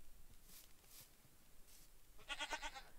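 A Minecraft goat bleats in a quick, wavering burst near the end, faint and somewhat distant over quiet game ambience with a few soft background noises.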